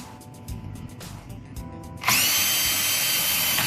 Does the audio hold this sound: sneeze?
no